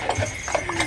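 Horse hooves clip-clop steadily on a town street during a ride through Chemainus, a close, rhythmic series of knocking steps over a constant background hum.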